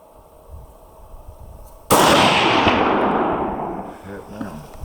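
A single loud rifle shot fired at a mule deer or whitetail during a hunt in desert brush country, a sharp blast at close range with a long rolling echo, followed by faint movement and voices.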